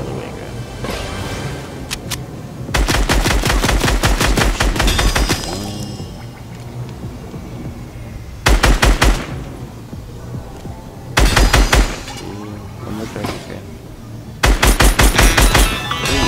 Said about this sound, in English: So that's how you shoot targets with SMGs or assault rifles